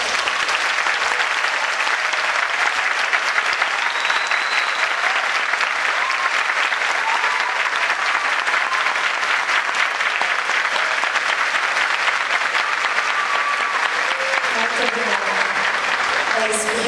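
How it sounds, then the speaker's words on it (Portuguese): A large audience at a dance school show claps continuously and evenly throughout, a dense, unbroken wash of applause with no pauses. "com muita alegria, bater muitas palmas para esses heróis"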